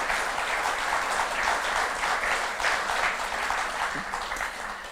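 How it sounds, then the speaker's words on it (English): A concert audience gives steady, sustained applause to young traditional Irish musicians at a Comhaltas concert in Milltown, Rathconrath; the dense clapping fills the hall and fades gently toward the end. "So I give them a big round of applause,"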